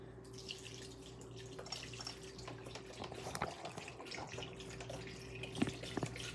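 Chicken broth pours steadily into a crock pot with gentle splashing and dripping, a continuous close trickle with a few louder plops near the end.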